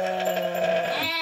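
Goats on a farm in Panama bleat loudly and continuously while one is being milked, a close, sustained wavering cry with another call rising near the end.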